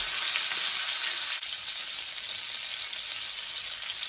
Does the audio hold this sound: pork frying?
yes